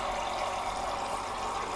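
Water pours steadily into a cooking pot while hot dog sauce is being made, producing a continuous, moderately quiet splashing hiss with no talking.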